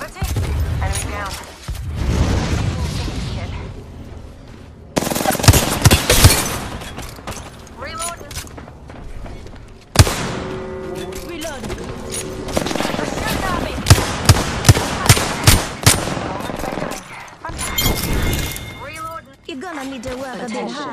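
Video game gunfire with rapid automatic bursts and sharp single shots, loud and dense throughout, mixed with explosions and a game voice calling out actions.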